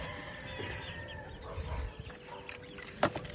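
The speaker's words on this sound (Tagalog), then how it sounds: "Ang daming manok oh" Chickens and roosters cluck softly and intermittently at a rural fighting-cock yard, with faint background noise and one brief sharper call near the end.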